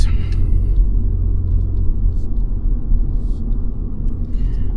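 Steady low engine rumble and road noise from inside a moving car making a right turn at a traffic light, continuous throughout with faint clicks, no voices.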